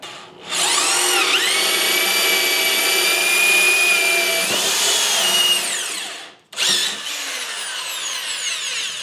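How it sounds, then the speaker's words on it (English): A Black & Decker 3/8-inch drill/driver whines at high speed while boring through a wooden 2x4, running steadily for several seconds, cutting out briefly, then spinning up again, loud and close. "I'm going to drill another hole directly underneath of it."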